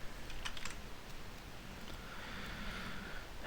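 Computer keyboard typing at a desk, a few quick close keystrokes near the start followed by sparse taps over low room noise.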